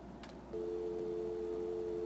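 A telephone in the adventure game Gabriel Knight: Sins of the Fathers gives off a brief click, then a steady electronic line tone that holds evenly to the end, fairly faint and with no one talking.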